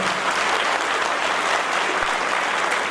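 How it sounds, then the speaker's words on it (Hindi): Loud, dense applause from a large crowd at a police pledge gathering with village panchayats, continuous and even throughout. "आप सभी लोग जोरदार तालियों से अपने लिए तालियां बजाएं"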